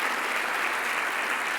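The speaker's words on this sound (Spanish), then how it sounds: "Un aplauso más fuerte a todos los que nos ven por televisión" An audience in a church claps in a dense, continuous burst of applause that stays loud and even for the whole stretch.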